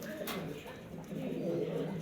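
A male GNS racing pigeon coos softly and steadily at close range, the low murmur rising slightly in the second half, with no clear talk.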